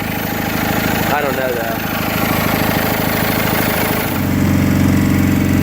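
Cub Cadet 1811 lawn tractor engine running steadily near the microphone after a new carburetor, its low droning hum continuous and rising slightly near the end, with someone speaking briefly over it.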